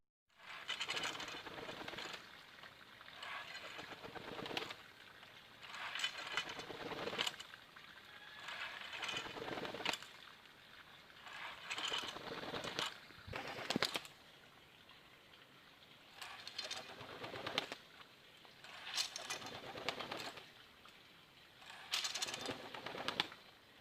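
Trained volantin pigeons take off in bursts from pallets, faint wing flutters and claps rising and fading in repeated clusters against a quiet outdoor background.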